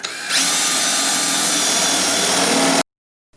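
A power drill with a 1.5-inch spade bit spins up and bores steadily through wood for a few seconds with a loud, rough whine, then cuts off abruptly into silence.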